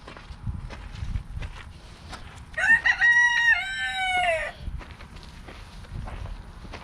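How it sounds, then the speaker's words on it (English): A rooster crows once at a chicken coop on an old farm, a clear mid-distance call of about two seconds rising out of quiet outdoor background with faint rustling and footsteps. "The rooster's announcing his presence."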